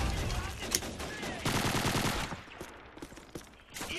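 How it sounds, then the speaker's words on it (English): Heavy automatic gunfire in the Call of Duty 2 video game, rapid bursts of machine-gun and rifle shots crowding together at close range, loud and continuous, with a brief lull before another burst at the end. "Stop shooting me, you dicks!"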